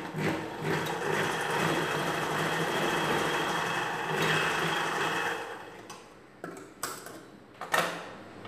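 A sewing machine stitches the back part of a princess-cut blouse, running in a steady close whir for about six seconds, then stopping into a few short sporadic bursts and clicks.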